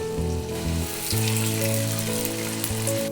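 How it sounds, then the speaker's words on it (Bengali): Vegetable pakoras fry in oil over medium heat with a steady, bubbling sizzle, and a faint tonal hum runs underneath. "জালটা মিডিয়াম করে দিয়ে একে একে আমি পাকোড়াগুলো সব দিয়ে দেব মিডিয়াম আছে বাদামি করে ভেজে নেবো"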